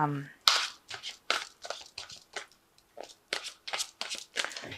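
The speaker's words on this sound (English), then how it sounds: "I'm going to just draw some cards from the" Angel Tarot cards being shuffled and drawn, giving a series of short crisp papery riffles and snaps in uneven bursts, close and fairly quiet.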